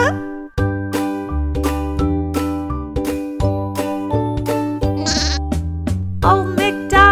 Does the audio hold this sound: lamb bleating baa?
yes